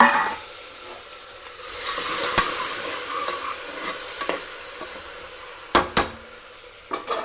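Onions and tomatoes with coriander leaves and turmeric fry in oil in a pan, a steady close sizzle broken by a few sharp scrapes and knocks of the stirring spoon.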